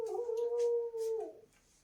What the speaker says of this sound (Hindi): पीछे कुत्ते जग रहे हैं